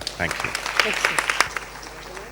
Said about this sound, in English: Can we have a nice round of applause for Emma?